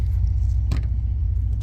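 A Honda Civic EK with a D16Z6 VTEC engine idles with a steady low rumble. A brief clunk or scrape cuts in near the middle of the short stretch.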